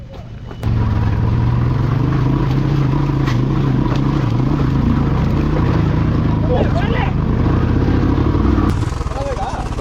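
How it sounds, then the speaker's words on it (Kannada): A motorcycle engine cranks and catches, then idles with a steady, throbbing rumble close by for several seconds before cutting off. "ಇಲ್ಲಿ ನಾನು ಗಾಡಿ ಹಚ್ತೇನೆ"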